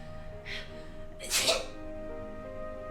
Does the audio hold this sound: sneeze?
yes